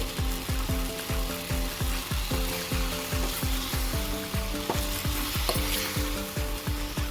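Tomatoes sizzle and fry in a hot pan with salt added, the crackle broken by rhythmic scraping strokes of a spatula stirring them.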